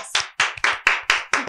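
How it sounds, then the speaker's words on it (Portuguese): Sharp hand claps, about six in a steady quick rhythm, close and clear with nothing else in between, given on a studio talk show set about money and politics. "Palmas."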